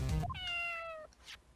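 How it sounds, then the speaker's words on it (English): A single drawn-out cat meow in the Phoenix Wright: Ace Attorney – Justice For All video game, clear and close, lasting about a second after a brief burst of game sound. "Kitty!"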